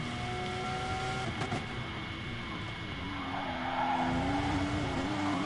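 A Porsche race car in GT Sport slides sideways at Catalunya, engine whine and tire scrub droning steadily with a faint tonal squeal, mid-distance and fairly loud.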